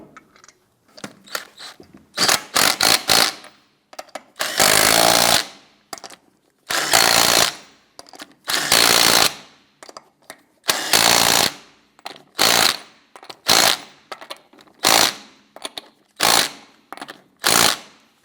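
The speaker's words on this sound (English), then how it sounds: "Get our lug nuts threaded on here." A power tool on a 1997-2006 Jeep Wrangler front wheel runs in loud, close bursts as the lug nuts spin on. Each rattling run lasts a second or two, separated by short silences.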